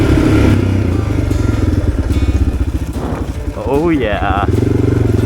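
A Suzuki DR 650 dual sport motorcycle loaded with camping gear rides with a loud, throbbing single-cylinder engine note that rises and falls through gear changes, close to the microphone, with a brief rider's exclamation over it.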